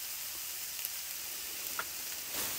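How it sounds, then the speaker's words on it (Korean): Pork grills over hot charcoal, giving a steady, crackling sizzle with scattered pops. The sound is close and continuous, with no voices. "고기 익는 소리가 지글지글 납니다."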